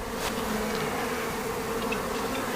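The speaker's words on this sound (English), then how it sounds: "Man, you can just hear all the bees coming in." Honey bee foragers return to a hive in spring, producing a dense, continuous buzzing drone close by, with individual bees whizzing past the microphone and no voices.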